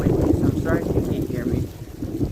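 Low, buffeting wind noise rumbling against a microphone outdoors on a very windy day, steady and close throughout, with a voice faintly present underneath.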